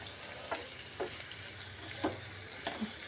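Chicken liver fries in a pan with a soft, steady sizzle, faint and close. Light scraping taps from stirring break through every half second or so.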